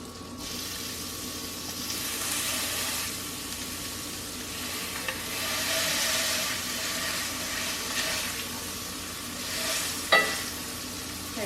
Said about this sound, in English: And hear that sizzle? That's what you wanna hear.